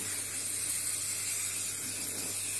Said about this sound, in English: this is my oil that I use, just the premium coconut extra virgin oil